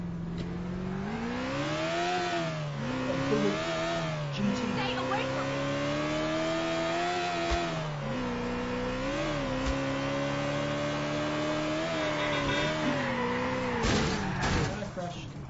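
Car engine in the video game GTA: The Ballad of Gay Tony revs with sweeping pitch rises and falls, loud and steady throughout, while people talk over it.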